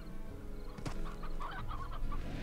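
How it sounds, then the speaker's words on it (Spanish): Chickens in the Slime Rancher video game cluck softly in a short burst, with a sharp click partway through and faint ambient game tones underneath. "Vale, aquí crecen gallinas."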